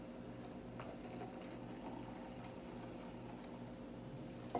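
New Coke and Original Coke poured together into one glass, a steady low fizzing, bubbling pour heard close and alone, with a small knock at the very end.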